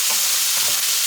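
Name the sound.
stirring meat in a pan for lasagne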